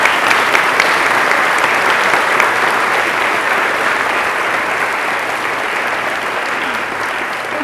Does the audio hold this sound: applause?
yes